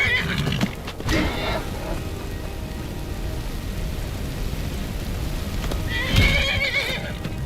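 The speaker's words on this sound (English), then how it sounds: "I think Tolfdir is attacking my horse" A horse in the Skyrim video game neighs twice, a loud whinny near the start and another near the end, over continuous game ambience.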